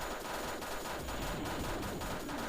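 Rapid video-game gunfire from Thing Thing 2, a steady, dense stream of synthetic shots running without pause at moderate, slightly distant loudness with no talk over it.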